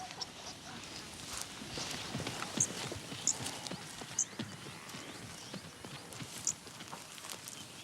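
Burchell's zebras move through tall, wet grass, their hooves giving soft, irregular thuds and clops with rustling foliage, several sharper hoof strikes standing out at moderate distance, no talk.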